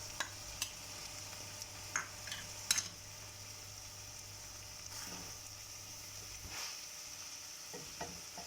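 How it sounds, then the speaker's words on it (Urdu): Minced keema frying in a karahi with tomato paste and chopped green chili: a soft steady sizzle with intermittent scrapes and clicks of stirring, fairly quiet and without talk. "ساتھ ہی 1 ٹیبل سپون چوپ گرین چلی ایڈ کر کے اس کی بھونائی کر لیں۔"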